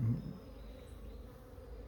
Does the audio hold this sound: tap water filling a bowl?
no